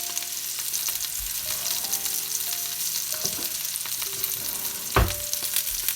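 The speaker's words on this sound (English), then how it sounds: "I'm just going to let them crisp up now on each side" Potatoes fry and crisp in a pan with a continuous close sizzle and fine crackle, and a brief clatter of a utensil near the end.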